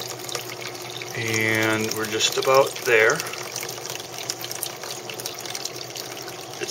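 Water flows steadily through a clear bell siphon, a continuous rushing wash running beneath a voice as he talks.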